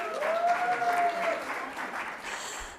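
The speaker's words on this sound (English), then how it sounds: "I'm going to keep going because we don't have time for all the applause" A church congregation applauds steadily in a continuous wash of clapping, with a brief sustained tone ringing beneath it early on.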